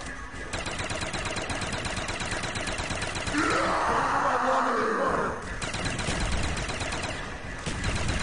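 The V-R11 wonder weapon firing in the Call of the Dead zombies mode, a single warbling, swelling energy blast lasting about two seconds over constant rattling gunfire from a co-op game.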